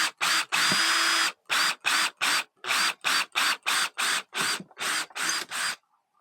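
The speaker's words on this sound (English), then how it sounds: "this is the nerve-wracking bit now where we start drilling" A power drill whirs in a rapid series of short bursts, about fifteen quick on-off pulses, loud and close, with silence between, drilling mounting holes in a car spoiler for an Audi TT.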